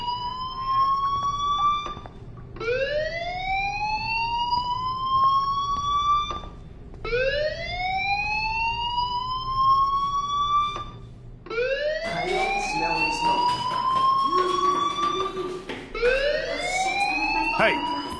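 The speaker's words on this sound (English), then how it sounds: "Hey, do you hear that fire alarm?" In the video game Life is Strange, a fire alarm wails in repeated rising electronic sweeps separated by short gaps. The sweeps grow louder and more cluttered in the second half, and a voice comes in at times.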